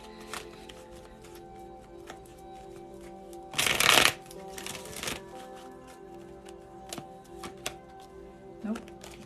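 Tarot cards riffled in a quick, close shuffle burst at mid-clip, with soft card handling and taps before and after against a steady low hum.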